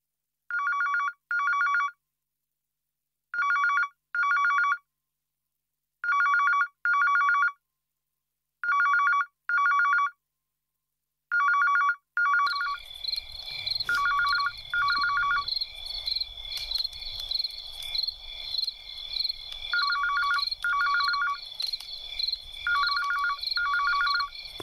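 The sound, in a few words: telephone ringing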